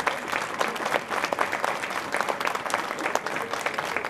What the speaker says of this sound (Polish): nieustanne brawa wielkie!